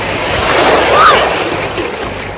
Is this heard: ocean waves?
yes